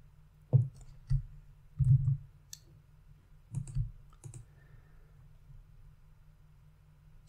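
Computer mouse clicks while working in Power Query, a handful of soft, low, dull taps spaced irregularly over a quiet background.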